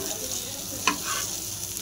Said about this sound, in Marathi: तर आपण आता मस्त हे कारलं फ्राय करून घेऊ।